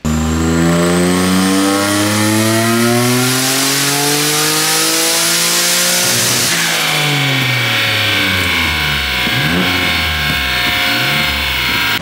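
A turbocharged Nissan 350Z engine revs hard and loud through a boost pull, pitch climbing steadily then dropping and rising again as it shifts, close and continuous with no talk.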